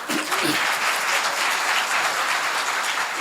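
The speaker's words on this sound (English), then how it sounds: "Please applaud the graduates" Audience at a 2017 Cornerstone Institute graduation ceremony applauding the graduates, a dense, steady wash of many hands clapping close and loud for about three seconds with no talk.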